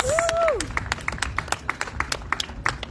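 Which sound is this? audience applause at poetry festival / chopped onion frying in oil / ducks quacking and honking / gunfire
audience applause at poetry festival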